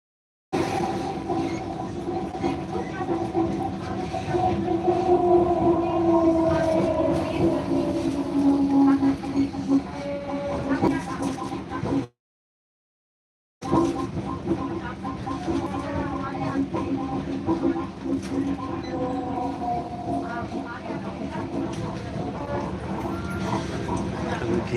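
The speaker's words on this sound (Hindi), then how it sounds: "मैं इस टाइम ट्रेन में हूँ और ट्रेन में यात्रा कर रहा हूँ" Interior of a local passenger train running from Sitamarhi to Bajpatti in India: steady rumble and rattling wheels on the track with squealing tones, continuous and close, broken by a brief gap, with occasional voices.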